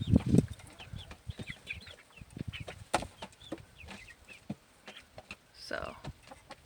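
Chickens gather around a feeder, clucking and scratching in short scattered bursts with occasional wing flaps, close by and fairly faint, with a person talking intermittently over them.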